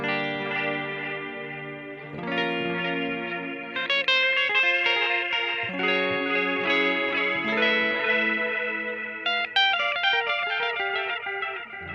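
Electric guitar played through a Line 6 DL4 MKII delay pedal rings out in sustained, shimmering chords and note runs, wrapped in chorus-like modulation and echo trails, loud and continuous with no talking.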